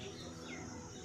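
Faint birds chirp in the distance over a steady outdoor background in Lodhi Garden, Delhi, brief and soft with no talking.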